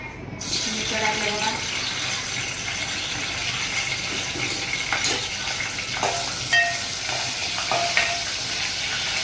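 Hot oil bursts into a loud sizzle as the tempering of cumin goes in for fasting-style amti, then keeps hissing steadily with occasional clinks of a utensil against the pan.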